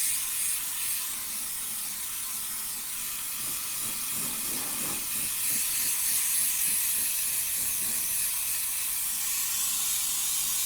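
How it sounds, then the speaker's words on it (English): An airbrush hisses steadily as it sprays green paint onto a 1/10th scale RC body shell, a continuous close airy spray that holds for several seconds without pause. "It's just a case of just holding the gun back and just spraying"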